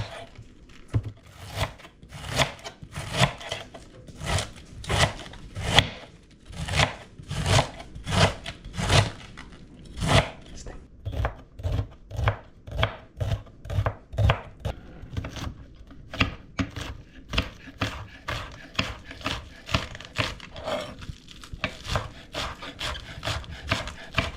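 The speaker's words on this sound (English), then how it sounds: "I'm going to go ahead and just shred it like this. That way we don't have like big chunks of cabbage." Cabbage shredded on a cutting board, a long run of rhythmic rasping knife strokes, close and fairly loud, repeating steadily at about two per second with brief pauses and no talking.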